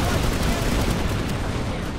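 Video game gunfire crackles in a dense, continuous burst of rapid shots that stays loud and sustained throughout.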